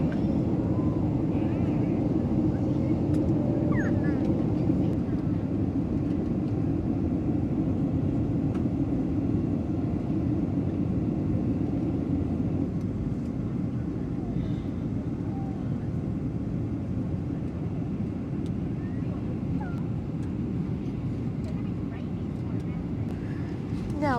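Steady low roar inside the economy cabin of a Qantas Boeing 737 descending through clouds on approach to Gold Coast Coolangatta in turbulence, a loud continuous rumble with a voice talking over it.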